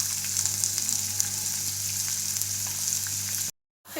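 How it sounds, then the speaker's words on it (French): Cumin seeds and onions frying in oil over low heat, a dense, even sizzle with a steady hum beneath, close and continuous until it cuts off near the end. "nous allons laisser cuire les oignons et le cumin à feu doux pendant 5 minutes"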